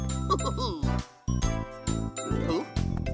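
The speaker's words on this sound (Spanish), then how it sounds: "es el timbre! Y esa canción significa que alguien toca mi puerta trasera" A back-door doorbell in a children's television house plays a short, bright tinkling melody of bell-like notes, close and clear, with a brief voice mixed in near the end.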